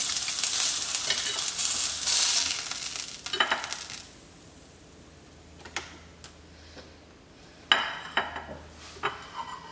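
Pork breakfast sausage made from ground pork trimmings sizzles loudly in a pan for the first four seconds, then fades to a quieter hiss broken by sharp clinks and scrapes of a utensil.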